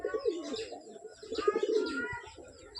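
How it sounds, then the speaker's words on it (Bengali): A young pigeon chick coos softly in a few low, murmuring phrases, faint and close, with small chirpy notes mixed in. "এই দেখুন ছোট পায়রা বাচ্চা"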